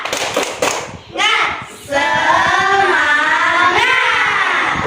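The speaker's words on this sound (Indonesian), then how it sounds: "Tepuk semangat." Schoolchildren in an Indonesian classroom perform a rhythmic spirit clap, a few sharp claps followed by loud chanting in unison that stays strong to the end.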